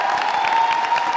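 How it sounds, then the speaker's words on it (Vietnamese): Studio audience clapping for comedian Hứa Vi Văn at a Vietnamese comedy show, a steady dense patter of hands with no break, loud and close over a sustained hum. "Một tràng vỗ tay thật to dành cho Hứa Vi Văn."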